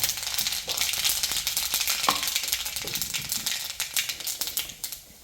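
Mustard seeds pop and splutter in hot oil, a busy crackle of quick sharp snaps over a steady sizzle, close by.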